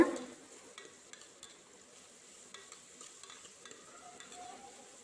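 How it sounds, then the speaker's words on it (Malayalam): Chopped onion and salt stirred in a pan, faint scraping ticks and a soft low sizzle, close but quiet, no talk. "എല്ലാം കൂടി നന്നായിട്ടൊന്ന് ഇളക്കി യോജിപ്പിച്ചെടുക്കുക"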